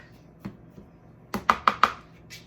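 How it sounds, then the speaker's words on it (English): A fork chops through crumb cake topping in a bowl, a few sharp, close taps, the last three coming in a quick, evenly spaced run. "I'm kind of chopping it with a fork"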